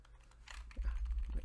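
Quick typing on a computer keyboard, a short run of close, soft key taps over a low background hum.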